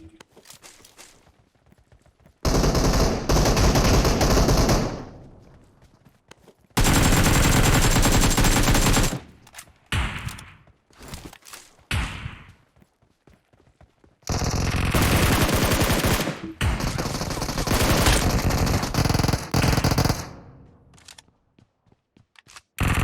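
An AK rifle in PUBG Mobile on the Livik map fires in long, loud bursts of automatic gunfire, separated by quieter gaps with scattered shots and movement.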